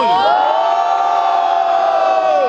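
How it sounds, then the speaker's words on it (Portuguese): A live crowd at a second-round rap battle in Brazil roars and cheers for one contestant, a loud sustained wall of shouting and whooping that fills the whole stretch without a break. "quem gostou das rimas da Atena faz muito barulho"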